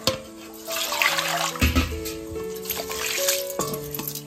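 Water is drained off washed rice, splashing and trickling up close in uneven gushes with a few knocks, and no talk.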